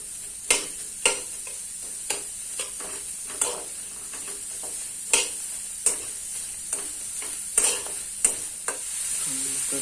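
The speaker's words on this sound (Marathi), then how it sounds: "आता हे कांदा टाकतो कांदा थोडा करपून घ्यायचा" Onion fries and sizzles with roasted dried fish in a pan, a steady high hiss broken by a dozen sharp scraping strokes of a spoon at an uneven, stirring rhythm.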